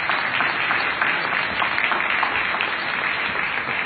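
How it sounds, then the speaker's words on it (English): Graduates and the crowd at a university commencement applaud family, supporters and friends, a continuous, even roar of clapping from a large gathering, heard alone without talk. "would you please join me in applauding all of our family supporters and friends"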